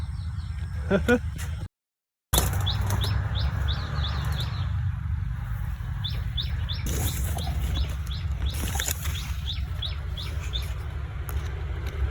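Young dove chicks chirping in quick repeated bursts of thin, high peeps, close by, while people talk and low background noise hums underneath.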